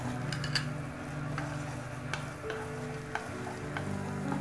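Chopped garlic frying in a little oil in a pan, a steady close sizzle with scattered ticks and stirring scrapes throughout, no voices.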